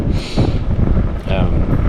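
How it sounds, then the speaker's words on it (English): Strong wind by the water in the Cape Breton Highlands buffets the microphone in loud, continuous low rumbling gusts, with a faint voice in the background. "It's super windy."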